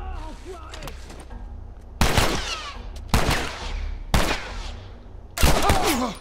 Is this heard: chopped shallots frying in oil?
no